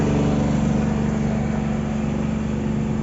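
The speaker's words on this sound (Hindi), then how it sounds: "जनरेटर की वजह से जो है वो काफ़ी शोर है" A generator runs steadily nearby, a constant loud mechanical drone with an even hum that never lets up, with no talking over it.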